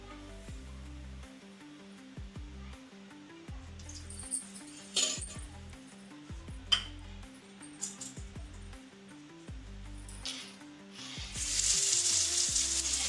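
Onion sizzles in hot oil during a tempering for soybean fry, a soft steady frying hiss broken by occasional spoon clinks and stirs, with the hiss swelling louder near the end; a low background hum runs throughout.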